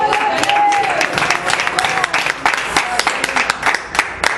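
A church congregation claps and cheers loudly and continuously, with voices mixed into the dense applause.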